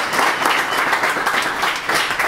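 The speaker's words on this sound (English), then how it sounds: "big round of applause for Gary." Audience at a startup networking event breaks into a steady, full round of applause, dense clapping throughout with no talk.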